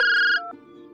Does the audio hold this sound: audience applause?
no